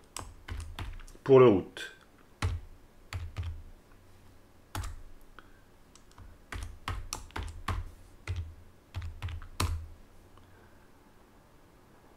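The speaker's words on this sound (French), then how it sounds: "maintenant je peux taper un nouveau password" Keys clatter on a computer keyboard as a new password is typed, in scattered quick bursts with pauses, close and fairly quiet, with someone briefly speaking French partway through.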